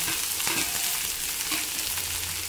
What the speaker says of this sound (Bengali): এবার আমি সবজিগুলো ভেজে নেবো, তার জন্য কড়ার মধ্যে কিছুটা পরিমাণ তেল দিয়ে দিয়েছি, সাদা তেল।